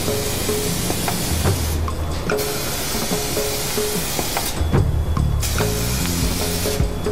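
Close, loud hissing bursts of restoration lacquer sprayed from an aerosol onto a removed car headlight, with short pauses between passes.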